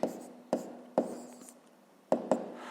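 A pen or pencil taps and scratches on paper while a math exercise answer is written out, giving five sharp, close taps at irregular intervals with faint scratching between them.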